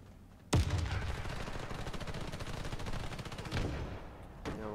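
Sustained rapid automatic gunfire from the Warface shooter on the Dock map, a loud burst that starts abruptly and rattles steadily for about four seconds before a brief pause and renewed shots.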